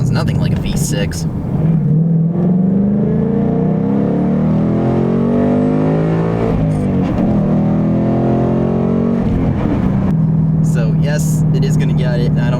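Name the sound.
2020 Mustang Ecoboost High Performance active exhaust revving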